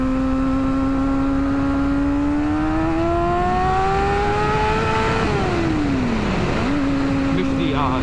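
Engine of a 2007 Kawasaki Ninja ZX6R sport bike under way, its loud whine climbing steadily through the revs, then dropping sharply on a gear change before settling again, with heavy wind noise throughout.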